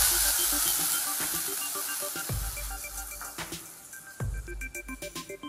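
Hot tempering poured into cooked cassava mash for kappa puzhukku: an immediate loud hiss and crackle that fades, then scraping and stirring with a couple of sharp sizzling bursts and clicks of a spoon.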